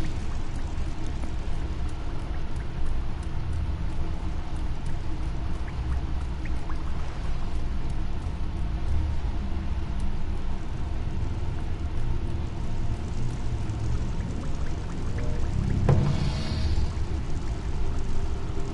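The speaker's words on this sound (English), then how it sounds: "Listen to that water drip" Water dripping in the game The Mark of Kri, a steady wet pattering and trickle running continuously at moderate level, with one sharper splash or drop standing out near the end.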